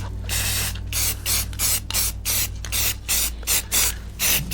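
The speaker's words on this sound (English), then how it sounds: "I'm going to spray from this angle" A nearly empty can of black spray paint hisses in a series of short, repeated bursts with brief gaps between them, close up, with a steady low hum running underneath.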